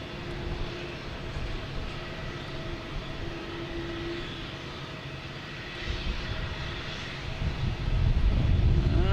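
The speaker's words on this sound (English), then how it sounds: "We'll get this JetBlue taken off, heading to San Juan." JetBlue Airbus A220 jet taking off at Boston Logan Airport, a steady broad engine roar that holds for several seconds and swells louder toward the end.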